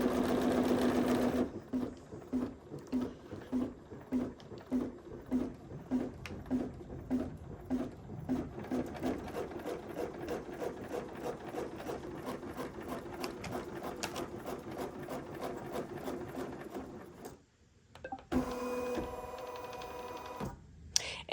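A BERNINA embroidery machine fitted with a magnetic hoop stitches steadily, its rapid needle chatter running continuously for most of the stretch before a brief pause and a short resumption near the end.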